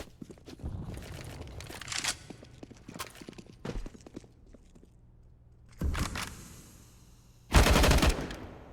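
Bursts of rifle fire spammed in Counter-Strike on the Mirage map, several short rattling volleys spread across the clip, the loudest near the end, with quieter footsteps and game ambience between them.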